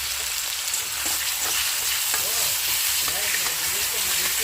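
Tomatoes dropped into a hot pan with onions hiss and sizzle steadily, with stirring scrapes and bubbling crackles running loud and close throughout, and no talk.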